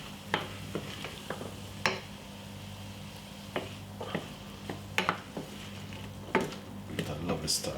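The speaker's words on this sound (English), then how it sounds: "That lovely stir" A spoon stirs couscous in a pot with a teaspoon of vegetable seasoning, giving soft scraping and clinking strokes at irregular intervals over a faint sizzle, close and fairly quiet.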